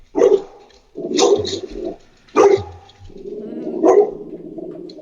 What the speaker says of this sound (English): He'll bark the whole time.